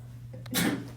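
A single sneeze bursts out in a classroom during a precalculus lesson, short and sharp over a steady low electrical hum.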